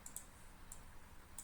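Several sharp, faint clicks of a computer mouse come in small clusters, two close together at the start, one alone in the middle and another near the end, over a quiet hum with no talking.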